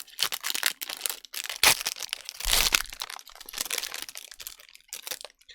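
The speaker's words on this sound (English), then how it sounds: "Nice crunchy pack openings, too, for the mic to pick up." Crinkly foil booster packs of D-Spirits Soul Snatchers trading cards being torn open close to the mic, giving loud bursts of crunching and crackling with short pauses between them and no talk.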